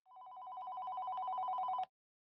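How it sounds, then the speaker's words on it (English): A telephone rings once with a single continuous electronic tone. It is clear and fairly close and stops abruptly after nearly two seconds, leaving silence. "Suddenly, the neighbor's phone rang."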